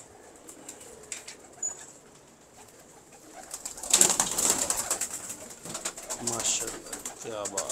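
Sher Dil pigeons cooing softly in a loft, with low coos and occasional wing flutters, while someone speaks over them and other voices are heard nearby.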